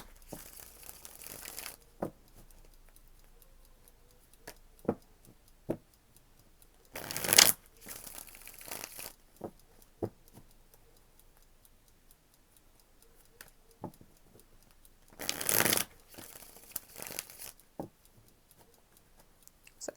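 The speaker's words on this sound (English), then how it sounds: "going to give this 3 shuffles and then lay them out" Tarot cards shuffled by hand in scattered soft riffles and sharp snaps, with two louder, longer bursts of shuffling along the way, quiet and close with no talk.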